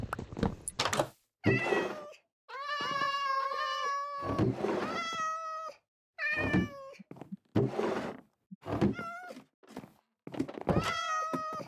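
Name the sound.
cats meowing in Minecraft video game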